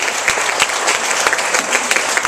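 An audience at a rock band camp claps loudly and steadily, with distinct individual hand claps popping out of a thick, continuous wash of applause.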